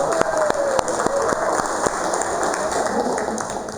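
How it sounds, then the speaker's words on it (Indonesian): A classroom group clapping together at the end of a lesson, a few distinct claps over a dense, noisy room sound with background voices. "kita tepuk tangan dulu untuk kita semua untuk hari ini ya"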